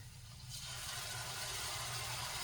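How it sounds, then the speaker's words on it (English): A little water is poured into a pan of homemade gravy: after a brief quiet moment, a steady, close rush of pouring liquid starts and continues evenly to the end. "I'm going to add a little bit of water"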